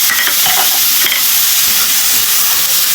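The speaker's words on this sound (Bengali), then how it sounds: "এখন চিংড়ি শুটকিগুলো দিয়ে দেবো।" Dried shrimp sizzling as they are stirred into a pan of cooked gourd peel, a loud steady hiss of frying with scraping stir strokes close by.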